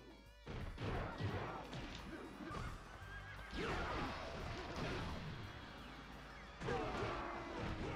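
Horses in the Dynasty Warriors 2 video game whinny loudly several times over a dense battle din of clattering hooves, crashes and clashing weapons.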